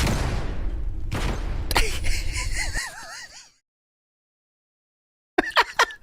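Flashbang grenades detonating in Call of Duty: several loud, sharp blasts close together, then a wavering high-pitched ringing that fades into silence before a short burst of voice sounds.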